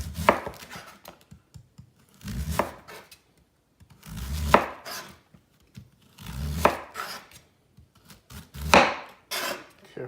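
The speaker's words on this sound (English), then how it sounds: "I want to cut this kind of thin. So I want some nice thin slices." A knife slicing thin pieces on a cutting board for lamb chops, with four or five bursts of rhythmic chopping separated by short pauses, close and clear.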